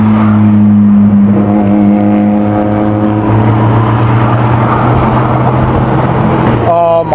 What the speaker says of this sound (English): Oh my gosh, look at the FDs driving.